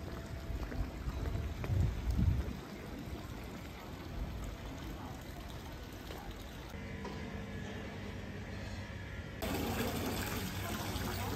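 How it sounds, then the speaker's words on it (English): Water runs steadily from a tap into a bottle outdoors near Lucerne, Switzerland, a continuous close splashing and hiss with a faint gurgle that shifts pitch as the bottle fills. "Filling up the bottle"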